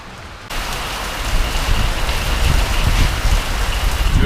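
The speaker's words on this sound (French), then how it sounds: "On s'est fait surprendre par la mousson." Heavy monsoon rain in Nepal pours down in a dense, steady roar of drops hitting surfaces, starting abruptly after a brief quieter moment and staying loud throughout, with no voices.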